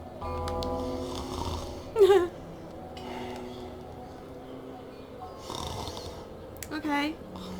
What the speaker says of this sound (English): Stop snoring now.